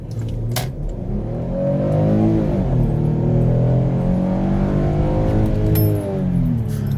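2011 Porsche Cayenne SUV accelerating from inside the cabin, a loud engine drone rising and falling in pitch through gear changes, with a few brief clicks and rattles.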